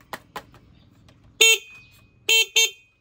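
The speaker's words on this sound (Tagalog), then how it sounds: "Busina lang siya, wala siyang passing." Two short horn beeps from a SYM motorcycle's stock horn, sounding close and loud after a few faint clicks, with no other sound between them.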